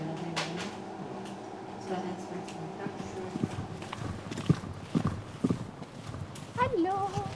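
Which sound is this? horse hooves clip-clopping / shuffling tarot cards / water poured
horse hooves clip-clopping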